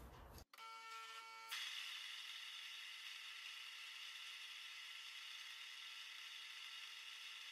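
A grain mill grinds Adagio French soft wheat, starting with a brief clatter and then settling into a steady, even mechanical whir and hiss that stays fairly quiet and constant throughout.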